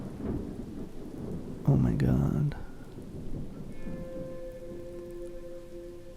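Heavy rain patters steadily, with a loud rumble of thunder partway through; a person exclaims briefly under the storm.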